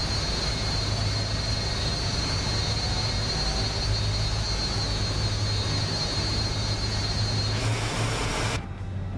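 An Embraer airliner's jet engines roar as it passes on the runway in Microsoft Flight Simulator, a loud, steady broadband rumble that holds for about eight seconds before cutting off abruptly.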